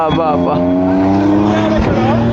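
A Ferrari sports car roars past at Gudibande Fort, loud and close. The engine note is sustained and rises slightly over two seconds.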